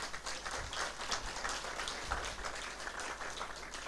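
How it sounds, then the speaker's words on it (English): Applause from the audience at a science and technology conference closing ceremony, an even, continuous patter of many hands clapping at moderate distance with no voices over it. "Another round of applause for them."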